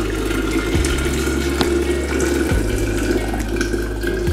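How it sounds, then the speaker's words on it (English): Hibiscus drink (sobolo/zobo) pouring steadily into a jar, a continuous close trickling stream with a low hum in the background. "I'm just gonna pour this in here into my jar"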